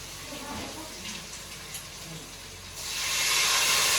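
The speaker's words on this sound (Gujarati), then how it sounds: "હવે ઢોકળા નાખી દઈએ." Dhokla pieces tipped into hot tempering of mustard seeds, asafoetida and sesame break into a loud, steady steam-like sizzle that rises sharply in the final second, after quieter kitchen noise.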